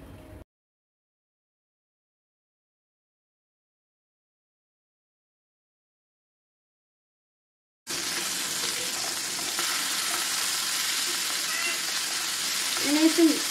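Marinated thin chicken pieces shallow frying in hot oil over high flame, a loud continuous sizzle that starts abruptly after a long silence and carries on steadily with faint clinks.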